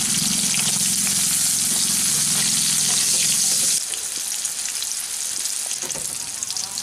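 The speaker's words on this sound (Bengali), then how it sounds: "এখন আমি তেলের মধ্যে উচ্ছেগুলোকে দিয়ে দিলাম।" Bitter gourd slices frying in hot oil with a pinch of turmeric, a loud steady sizzle that drops to a quieter crackle partway through, with light stirring and no voices.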